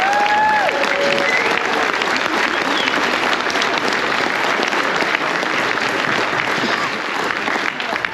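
Sustained crowd applause at a drag racing awards gathering honoring a 30 under 30 class, dense steady clapping filling the whole stretch at a loud, even level with a few brief whistles early on.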